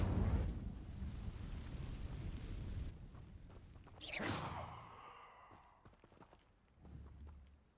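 Incendio fire spell cast in Hogwarts Legacy: after a dense rumbling wash, a single bright whooshing flare bursts out midway and trails off into a quieter, crackling tail.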